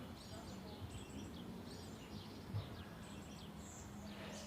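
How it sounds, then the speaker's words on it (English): Faint birds chirp and tweet at a distance in a backyard, scattered calls over a quiet outdoor background with a soft low hum. "the birds in the backyard are quite loud and excited"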